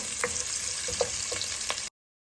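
Oil frying in a pan while dal and rice are cooked at home, a steady close sizzle with a few soft clinks and taps, brief and alone without talk.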